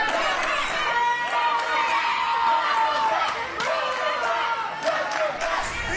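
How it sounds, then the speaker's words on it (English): Wrestling crowd chanting a welcome back chant at an indoor event, a steady roar of many voices with rhythmic shouts, heard under continuous commentator talk. "look at that welcome back chant"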